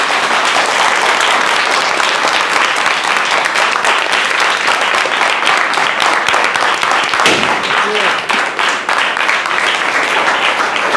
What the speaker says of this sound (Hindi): ये है तालियों की गड़गड़ाहट जो कि लग रहा है लोहे से लोहे को बजाया जा रहा है